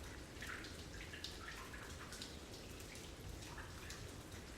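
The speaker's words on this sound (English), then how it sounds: "so that water noise is now directly" Running water in the pitch-black game The Tower splashes and trickles steadily, a soft continuous wash with faint drips, fairly quiet and unbroken.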